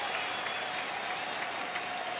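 Crowd at a baseball stadium during a Mariners–Rangers game applauding and cheering in a dense, steady wash of clapping, broad and distant-sounding, alone without talk.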